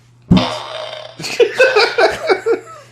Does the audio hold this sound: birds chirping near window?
no